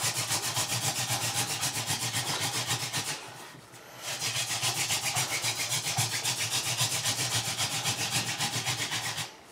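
A wooden hand drill spindle spun between the palms for friction fire, giving a loud, rhythmic rubbing drone that pauses briefly for a hand reset, then carries on steadily, with no voices.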